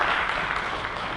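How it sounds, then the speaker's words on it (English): An audience at a harm reduction forum in Jakarta claps in a brief, dense burst of steady applause that fills the room from start to finish. "Let's give a big round of applause to all the panelists and participants present here"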